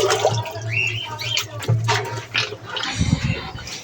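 Water pouring into a bucket at home, a steady running stream with a low hum underneath and brief shifts in pitch as the level rises, close and moderately loud.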